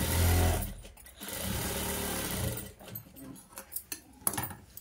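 A sewing machine runs loud and close, stitching the folded-in hem of a cut work blouse in a steady burst, then stops, leaving a few clinks and handling knocks.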